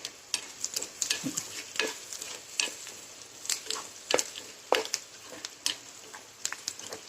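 Onion frying in oil with a pinch of salt, a soft continuous sizzle broken by repeated close scraping stirs of a spatula against the pan, no voices.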